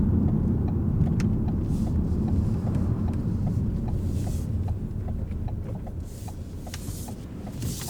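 Car moving off during a driving lesson, a steady low engine hum with faint rhythmic ticking throughout, continuous and moderately close with no talk.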